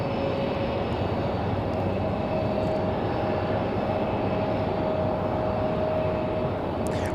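A Republic Airways jet arrives at Raleigh-Durham airport in windy conditions, a steady broad engine rumble with a thin whining tone running throughout.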